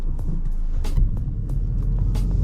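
Volkswagen Mk8 GTI with a K&N drop-in air filter accelerating in second gear, a steady loud engine rumble and drone with brief whooshing intake bursts, no talk.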